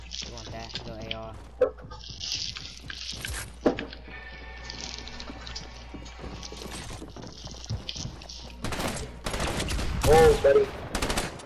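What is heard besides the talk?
assault rifle gunfire in Fortnite video game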